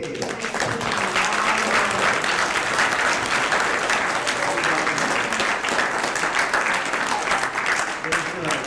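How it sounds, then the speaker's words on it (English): An audience at a robotics exhibition panel talk applauds the teachers, a dense, steady wash of clapping that holds at full strength throughout, with a few voices mixed into the crowd. "I'd like to give these teachers a round of applause"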